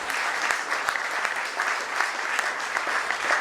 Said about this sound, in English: Prasad deserves a big round of applause